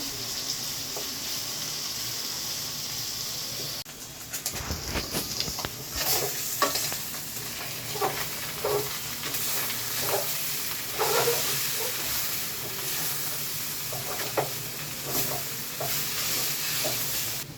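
Small shrimp seasoned with turmeric and salt fry in oil together with red amaranth leaves. A steady sizzle sounds close, broken by repeated scraping stirs and louder crackling bursts.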